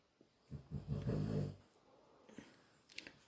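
A sleeping dog snores quietly nearby, one drawn-out rumbling snore followed by softer breathy snuffles, faint in a quiet room.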